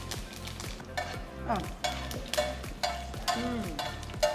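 Mustard seeds and cumin crackle and sizzle in hot oil as a tempering is stirred, with steady frying hiss and repeated spoon scrapes and clinks against the pan.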